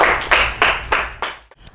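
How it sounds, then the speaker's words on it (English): A small audience claps for a presenter after a classroom economics lesson, five short bursts of hand claps at a steady beat before the sound fades out. "Okay, applause for Lisa."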